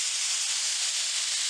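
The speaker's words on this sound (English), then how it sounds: "The reason I'm steaming before I'm sanding is to minimize the amount of sanding" A loud, steady hiss of steam sprays continuously at close range onto a 1964 Lane Acclaim wooden buffet top, bright and airy, with no voices.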